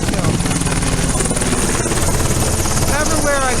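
Helicopters passing overhead in Washington DC, a loud continuous rotor roar and thrum filling the whole stretch with steady intensity.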